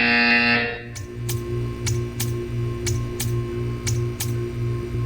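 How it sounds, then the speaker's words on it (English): A loud harsh electronic buzzer from the video game Portal 2 blares briefly, then cuts off to a steady hum with evenly spaced ticking clicks. "You will hear a buzzer."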